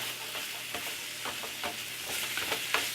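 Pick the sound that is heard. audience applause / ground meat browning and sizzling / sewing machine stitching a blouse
ground meat browning and sizzling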